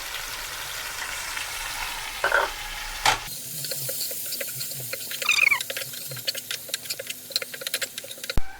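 Ginger, garlic, onion, turmeric, chili powder and salt frying in a pan for a hilsa fish curry with taro and eggplant, a close sizzle and crackle with scattered spoon clicks and spitting pops.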